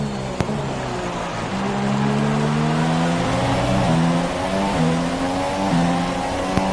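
A Formula 1 race car laps the Circuit of the Americas during the US Grand Prix. The high-pitched engine sits loud and close, rising through gears with repeated upshift steps, a shift pattern that could come from racing-game audio.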